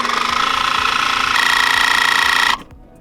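A Handpresso Auto 12V portable in-car espresso machine runs with a steady, loud mechanical buzz for a few seconds, then cuts off abruptly, leaving a quieter hum behind.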